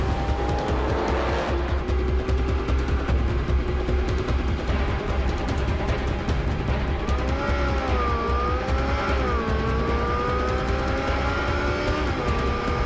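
A Porsche 918 Spyder accelerates hard at full throttle, its engine note loud and close, rising and falling through high revs with a continuous roar and faint tire noise.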